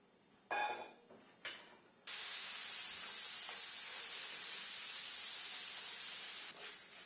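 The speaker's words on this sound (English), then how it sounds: "I'm going to saute up some bacon" Bacon sautéing in a pan, a couple of short bursts followed by a loud, steady, close hiss that keeps going without a break.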